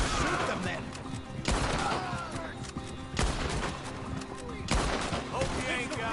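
Gunfire in the video game Red Dead Redemption 2: sharp, booming individual shots spaced a second or so apart, each with a long echoing tail, over a rumbling street shootout background.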